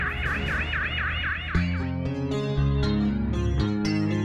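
Alarm siren during a chemical plant evacuation drill simulating a liquid chlorine leak, a warbling wail that gives way to a loud, repeated blaring horn pattern, continuous and close.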